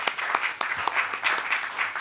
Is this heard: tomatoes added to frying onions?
no